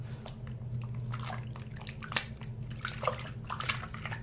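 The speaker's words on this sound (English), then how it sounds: "I'm going to be putting soap in here" Foaming hand soap squeezed into a phone case for washing gives soft, close wet squishes and scattered drips over a steady low background hum.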